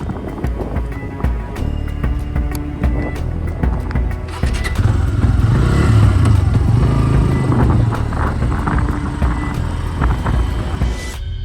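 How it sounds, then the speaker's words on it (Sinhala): A motorcycle rides along a mountain road in cold wind, its engine droning steadily under heavy rushing wind buffeting the microphone, growing louder and rougher midway before easing slightly. "කදු අතරින් වැටුණු මේ පාර දිගේ සීතල සුළඟත් එක්ක මම මගේ බයික් එකෙන් ඉදිරියටම ගියා."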